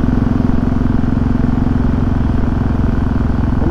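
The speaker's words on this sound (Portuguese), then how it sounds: "Tá testando a motinha agora pra ver se vai rodar bem" Small motorcycle engine running during a test ride, a loud close steady rumble with a fast even pulsing beat, continuous throughout.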